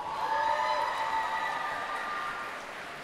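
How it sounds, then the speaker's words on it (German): A cosplay contest audience on a convention main stage gives a steady wash of applause, faint and distant, fading slightly over a few seconds. "Das waren alle unsere Teilnehmer und ich bitte nochmal meinen riesigen Applaus."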